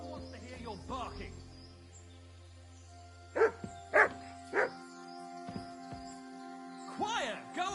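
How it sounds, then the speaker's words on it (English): A dog lets out three sharp, evenly spaced barks at moderate distance, with scattered voices and other faint sounds around them. "No one wants to hear your barking."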